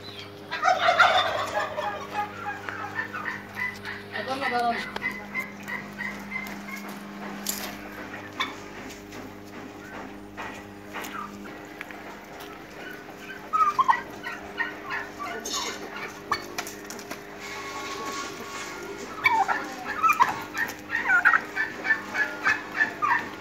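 Turkeys at a Chittagong turkey farm, housed in separate cage compartments with their own doors, gobble repeatedly in overlapping bursts, some close and loud, others farther off, over a steady background hum of the farm.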